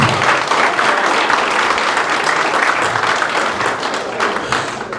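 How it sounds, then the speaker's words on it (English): Loud, sustained applause fills a room at a Black suffrage network gathering, a dense wash of many hands clapping that holds steady and tapers slightly toward the end. "Give yourselves a hand. If you mean it, clap."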